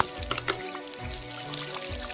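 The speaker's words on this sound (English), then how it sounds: "Now you can see water coming out from the hole." Water trickles and splashes from a hole in a plastic bottle in a mobile game, a steady, close stream with faint bubbling and small drips throughout.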